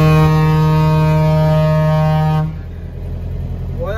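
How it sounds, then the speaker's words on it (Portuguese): A deep, loud, sustained truck air horn blares steadily during a street truck convoy parade in Bragança Paulista, then cuts off, leaving rumbling engine and road noise with a fainter rising horn tone at the end. "Bora buzinar, hein?"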